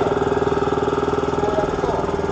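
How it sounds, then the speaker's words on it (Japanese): Small engine of a motorized carrier revving as the throttle is raised, a steady, loud, close pulsing drone with a fast regular beat and no pauses. "スロットルを上げて、回転上げて"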